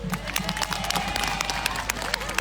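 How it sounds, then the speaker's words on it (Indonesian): A crowd at an Islamic sermon claps steadily and fast, with crowd voices and some cheering mixed into the sustained applause. "tepuk tangan dulu"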